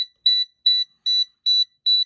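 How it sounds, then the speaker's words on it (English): A backup alarm from an electronic circuit kit sounds a steady run of identical high, piercing beeps, about one every 0.4 seconds, close and loud with silence between, no voices. "So it's like a backup thing to show you that it's backing up, so you don't get hurt, or hit."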